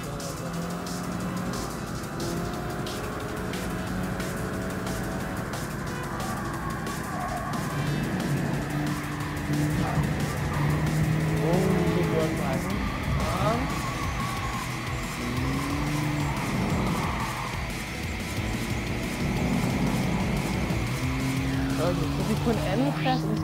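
Racing cars in the video game Gran Turismo Sport drone steadily with shifting engine pitches and occasional tire squeal. Someone talks in Danish over the continuous motor noise.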